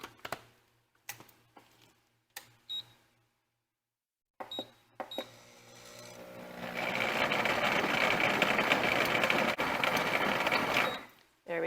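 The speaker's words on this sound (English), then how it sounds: "we're just going to blend this a little bit" A kitchen blender whirs through cherries with a cup of water, starting with a few short clicks and bursts before running into a steady, loud blending roar that cuts off near the end.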